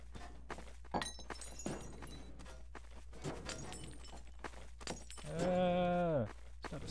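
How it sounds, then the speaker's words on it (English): Glass shattering and breaking underfoot in the Garry's Mod game during a Prop Hunt match, several crunching impacts scattered through the clip amid other game noise and voices, ending in a louder sustained tonal sound. "Stop stepping on glass."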